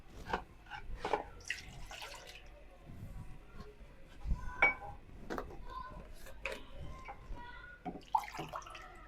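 Water measured out and poured into a glass in a home kitchen while seviyan are being cooked, with splashy pouring, drips and small clinks of the glass, close and moderately loud, and someone speaking briefly in the background.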